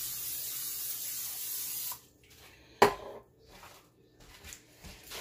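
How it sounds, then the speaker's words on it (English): A can of cooking spray hisses onto a pan in one continuous two-second burst, then stops, followed by a sharp clack and faint kitchen handling sounds. "I'm going to spray my pan."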